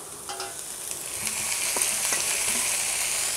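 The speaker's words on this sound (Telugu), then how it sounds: "ఇలా అన్నీ యాడ్ చేసి బాగా ఫ్రై చేసుకోవాలి" Green chilies, capsicum and tomato pieces fry in a pan with onions, giving a soft steady sizzle and a few scraping stirs, close and moderately quiet.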